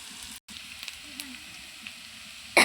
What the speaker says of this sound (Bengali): ইসা মাছ ভুনা করে নেব